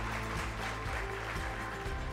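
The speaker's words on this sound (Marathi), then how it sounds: "जोरदार टाळ्या वाजवूयात मंडळी।" Audience applause in a hall at a News18 Lokmat education conference, a steady wash of many hands clapping, fairly faint and continuous for about two seconds, with a low hum underneath.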